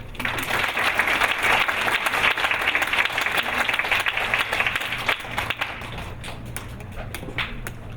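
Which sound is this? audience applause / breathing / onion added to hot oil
audience applause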